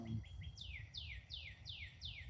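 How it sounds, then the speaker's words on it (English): An unidentified bird outdoors calls with five descending whistled chirps in a steady rhythm, fairly close and clear over low background rumble. "I don't know what kind of bird that is."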